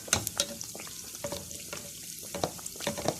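Chicken and cheese pies frying in hot oil, a close bubbling sizzle broken by sharp crackles and brief stirring or turning sounds.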